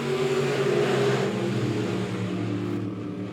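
B Modified race cars at Monett Motor Speedway accelerate on the dirt oval, a dense, loud engine roar holding steady as the field throttles up together, with crowd and track noise blended in and no voices.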